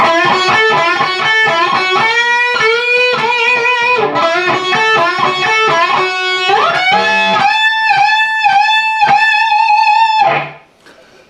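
A loud, overdriven electric guitar solo, played in 7th position, with fast runs and bent, sustained notes, alone and up close, ending with a final held note that fades out.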